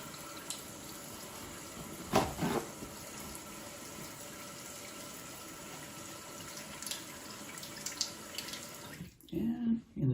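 Hands are rinsed under a running tap at a sink during hand-washing training: a faint, steady stream of water with a couple of louder splashes, cutting off near the end.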